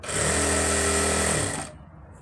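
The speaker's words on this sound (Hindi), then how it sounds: "इसको कपड़े को बेल्ट से मिलाते हुए सलवार के और इस पर सिलाई लगाएंगे" A sewing machine stitching a belt onto a salwar runs in one steady, close whirring burst for under two seconds, then stops abruptly.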